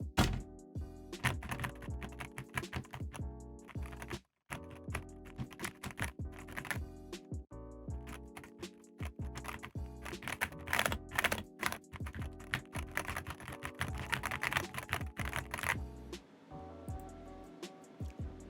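Rapid continuous keystrokes on a Wooting mini mechanical keyboard, close and fairly loud, with dense clacky typing bursts and a brief pause, no talking.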